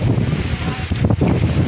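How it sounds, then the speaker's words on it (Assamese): Strong gusty wind blows near a riverside temple, buffeting the microphone with a loud, continuous roar that surges briefly in the middle. "ইমান বেয়া বতাহ দি আছে"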